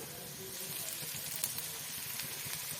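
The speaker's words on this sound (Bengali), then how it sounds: "তেলটা গরম হয়ে গেছে দিয়ে দিলাম কালো জিরে দিয়ে দেবো কেটে রাখা পেঁয়াজ দিয়ে দেবো কাঁচা লঙ্কা" Chopped onion and green chili frying in hot oil with black cumin seeds, a steady soft sizzle and crackle at close range with no talking.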